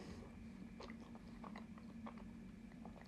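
Someone bites into a fresh egg sandwich with chunky egg filling, then chews close to the mic: soft crunchy bites and moist chewing, quiet and without talk.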